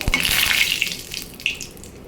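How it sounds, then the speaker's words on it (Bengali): Cumin seeds and a bay leaf hit hot oil in a pan and give a loud, close, hissing sizzle. The sizzle bursts up at the start and then slowly fades. "এখানে আমি জিরে ফোড়ন দিয়ে দিচ্ছি আর দিয়ে দিচ্ছি একটু তেজপাতা"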